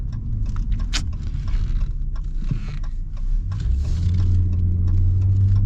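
A 2024 Ram 1500 pickup with the Pentastar V6 accelerates at full throttle, a steady engine drone rising in pitch from inside the cab, with small creaks and rattles over the roar.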